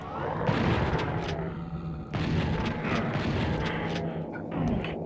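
Enemies in Doom 64 open fire on the player: loud, close bursts of shots and booming impacts come in quick repeated volleys over a continuous roar of game noise.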